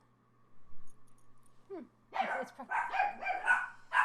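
Dogs barking excitedly close by, a burst of repeated sharp barks and yips after a short quiet moment.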